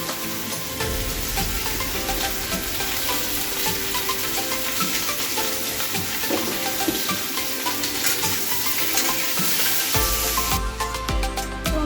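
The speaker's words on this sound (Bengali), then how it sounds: "এগুলিকে আমি এবার ভেজে নেব, নুন দিয়েই ভেজে নেব" Continuous crackling sizzle of vegetables frying with salt in a pan, steady and fairly quiet, with occasional stirring clinks and a brief splash near the end.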